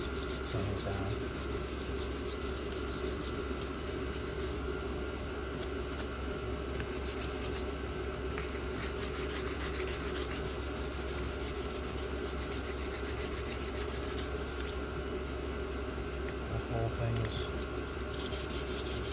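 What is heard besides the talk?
abrasive scratching down a knife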